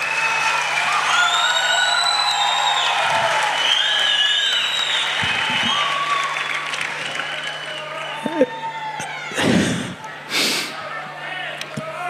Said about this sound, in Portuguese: Recebo-no com uma grande salva de palmas para ele ver que Rio Tinto é caloroso.